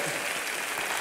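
Studio audience on an Indian TV comedy talk show applauds steadily, a dense wash of clapping held at even volume for the full second with no voices on top.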